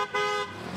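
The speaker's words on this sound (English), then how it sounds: "car after car passed Steve Dameron today, honking, waving, and screaming support." A car horn gives a short, loud toot as cars pass a roadside corner, honking in support; a single blast under a faint hum of road traffic.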